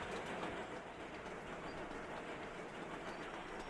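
A train rolls along the track in the Sweet Transit railway-building game, giving a steady rumbling, rattling clatter that holds at even loudness throughout with no talking over it.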